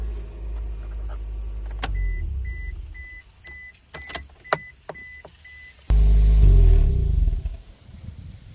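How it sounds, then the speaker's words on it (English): Car engine idling during a Sea Foam spray intake treatment, a steady low rumble with a repeating electronic chime and a few clicks, then a loud surge before the engine is shut off. "we're gonna shut the car off."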